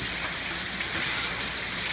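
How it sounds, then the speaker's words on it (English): Steady rain falls in a dense, continuous hiss, with a soft patter of drops on surfaces and no voices or other sounds breaking through. "And it's still raining."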